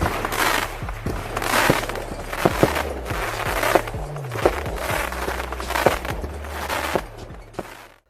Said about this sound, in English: Mine, a lower effect before the main effect.